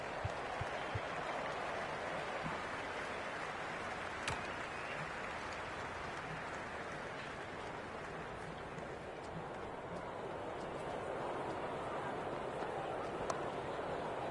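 Crowd applause from the stands during a cricket match in the Ashes Cricket video game on PS5, a steady broadband roar of clapping sustained throughout at moderate loudness, with no voices over it.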